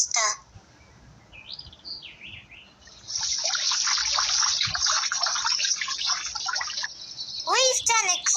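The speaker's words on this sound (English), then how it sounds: "Let's water them so the flowers grow faster." Water trickles and splashes steadily as flowers in a garden are watered, with bird chirps before it, in an animated children's story.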